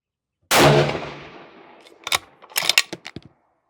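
A single loud rifle shot at an outdoor range while zeroing a new Zero Compromise Optic ZC420 scope, with a long rolling echo that fades, followed by a few sharp metallic bolt clicks and clacks up close.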